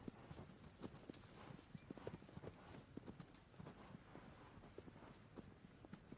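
Horse hooves trot in a steady clip-clop rhythm across the overworld of the video game Shadow of the Colossus, faint and continuous throughout with no talk.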